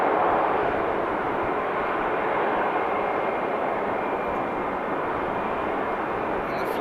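FlyOne 14-year-old airliner at Amsterdam Schiphol airport, a steady broad jet engine roar that holds loud and constant throughout, no voices.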